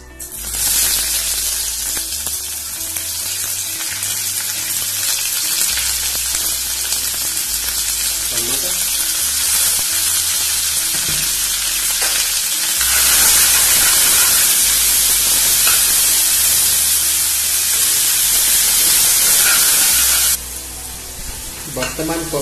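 Onions frying in hot oil with fenugreek and cinnamon make a loud, continuous hissing sizzle that swells partway through and stays close and intense to the end.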